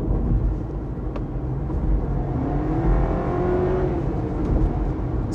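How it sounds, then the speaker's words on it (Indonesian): A 2025 Honda Civic e:HEV hybrid engine in sport mode hums steadily and fairly close, with a rising whine swelling in the middle as it revs up, then settling back to a constant drone. "Sekarang saya mau coba kalau kita masuk ke sport mode, seperti apa sih suaranya."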